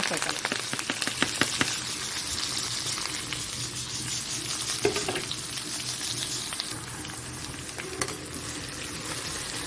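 Onions and green chillies frying in hot oil with fennel seeds for mutton keema masala, a dense crackling sizzle up close with stirring scrapes and clinks.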